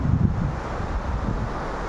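Rough Arabian Sea water surges beneath strong gusting wind that buffets the microphone, a continuous blustery roar with no talking.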